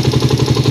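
A motorcycle engine with a PWK carburetor idles up close as its exhaust outlet is pressed, a brief, loud, evenly pulsing chug.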